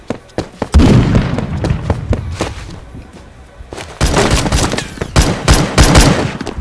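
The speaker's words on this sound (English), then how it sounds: "That's gotta be my teammate shooting" Gunfire in the Roblox shooter Phantom Forces: loud, close bursts of rapid shots and sharp cracks, pausing briefly midway before a dense, continuous volley resumes.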